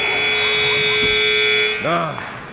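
A long, loud electronic buzzer at a high school boys basketball game's halftime drones steadily under crowd noise and voices, cutting off near the end as a whistle-like tone rises briefly.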